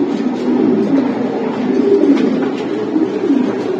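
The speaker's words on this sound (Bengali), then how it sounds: "এগুলা সব রেসার ভাই, সব রেসিং কবুতর" Racing pigeons kept for sale coo continuously nearby, soft overlapping throaty calls rising and falling without pause, with no talking.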